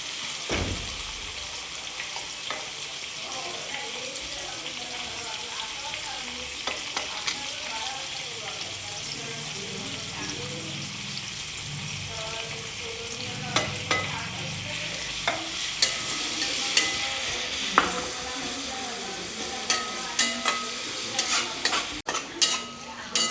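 Onions fry for mushroom biryani, a steady close sizzle with scraping stirs that grow busier and louder toward the end, no talking.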